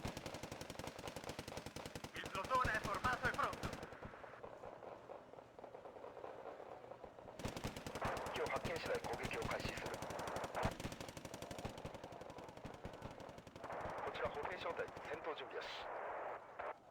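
Aircraft machine guns fire in a WWII-era flight combat game, long rapid bursts of rattling gunfire that stop and start in several strings.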